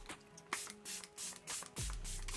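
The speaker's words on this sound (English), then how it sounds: "I'm going to go back in with my Milani Make It Last Natural Finish Setting Spray again" Milani Make It Last Natural Finish Setting Spray misted over a made-up face, several short hissing bursts in quick succession, close and fairly quiet.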